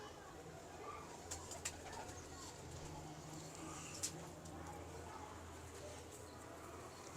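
A pigeon coos softly in low, rolling murmurs, faint and somewhat distant, over steady background hiss with a few sharp clicks and clatter.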